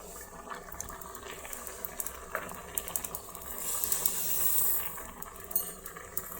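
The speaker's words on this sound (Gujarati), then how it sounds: "આપણી ખીર સારી રીતે ઉકળી ગઈ છે" Kheer, a rice and milk pudding, bubbles in a pot with soft irregular pops and a low simmering hiss, close and quiet, building briefly before settling, no voices.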